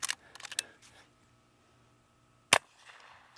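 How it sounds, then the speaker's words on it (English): A Henry .22 smoothbore garden gun fires a CCI shot shell at close range on a target: one sharp, loud crack, followed by a brief ring, with some quieter handling clicks before it. "Now we're going to try the garden gun."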